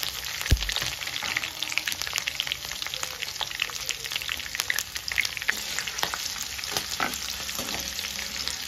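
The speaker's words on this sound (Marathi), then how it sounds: "लसूण आणि मिरची थोडीशी भाजायला द्यायची फोडणीमध्ये." Garlic and chilli frying in tempering oil with cumin, mustard seeds and curry leaves, a steady close crackling sizzle with scattered sharp pops and occasional stirring.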